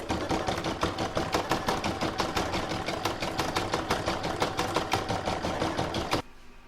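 Embroidery sewing machine satin stitching a poinsettia coaster in red thread: a fast, steady mechanical rattle of rapid needle strokes, loud and close, ending abruptly near the end, with no voices.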